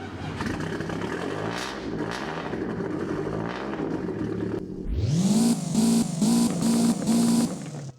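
A Lancia Delta starts up in the Roblox game Driving Empire: after a stretch of low background rumble, the engine catches with a rising whine, then settles into a loud idle broken by several rhythmic revving pulses before cutting off.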